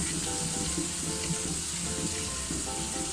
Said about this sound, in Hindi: इसको हम अभी भून रहे हैं।